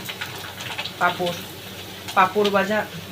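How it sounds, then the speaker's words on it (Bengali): Papad frying in hot oil gives a soft, steady sizzle under muffled voices, with louder bursts of talk near the middle and end. "পাঁপড়টা ভেজে নিই।"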